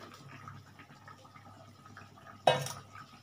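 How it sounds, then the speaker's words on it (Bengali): Soybean chunks drop into a cooking pot of boiled potatoes over a raised gas flame, a single sharp splashing clatter late in an otherwise quiet, low simmer. "সোয়াবিনটা আমি দিয়ে দিচ্ছি।"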